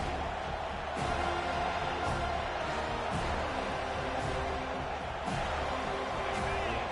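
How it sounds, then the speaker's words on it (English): A home crowd roars at a UNC football game as the defense tries to get off the field on third down, a dense, steady wall of cheering that holds loud through the whole stretch. "Here comes this home crowd as the defense tries to get off the field on 3rd down."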